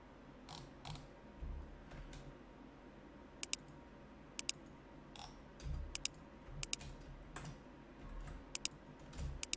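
Sparse, quiet clicks of computer keys tapped in small bursts, with a few sharper clicks and a faint background hum.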